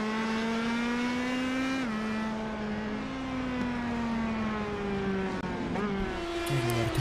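Race cars pass one after another on the Nordschleife, their engines droning loudly and shifting pitch as they go by, with a steady roar throughout and no voices.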